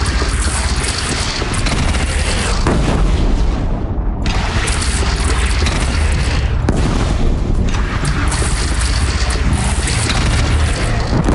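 A bridge in Horizon Zero Dawn is shot down and blows apart in a huge, continuous roar of booming explosions and rumbling debris. It stays loud and dense throughout, with a couple of brief dips.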